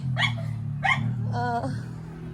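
Two sharp dog barks close by, followed by a higher whining yelp, over a constant low mechanical hum.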